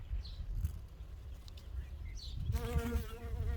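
A bee buzzing around a bride flower while gathering pollen outdoors, a steady faint drone close to the microphone with some higher insect whine, no voices.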